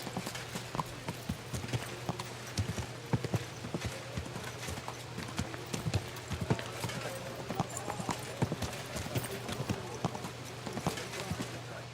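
Steady clip-clop of horse hooves at a walking rhythm in the video game Kingdom Come: Deliverance II, fairly close, with a constant low hum underneath throughout.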